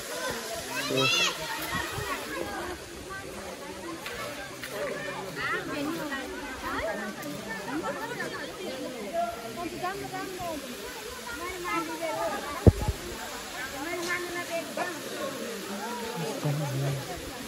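Steady rushing water of a waterfall roars throughout, with children and adults chattering over it and a sharp splash near the end.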